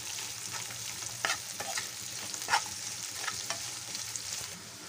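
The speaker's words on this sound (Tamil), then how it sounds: "இந்த வெங்காயம் நல்லா பொரிஞ்சிருச்சு பாருங்கள்" Thickly sliced onions fry in a pan while being stirred, a steady close sizzle broken by scraping strokes of the spoon, with no voices.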